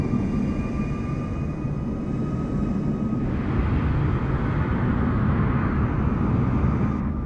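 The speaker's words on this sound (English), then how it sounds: "Oh, look, there's a plane taking off." A plane takes off at night at LAX airport, a loud, steady engine roar that swells partway through with a faint high whine above it.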